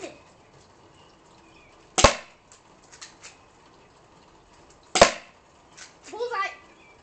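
An airsoft gun fires at a target: two sharp, snappy shots a few seconds apart against a quiet background, followed by a brief voice.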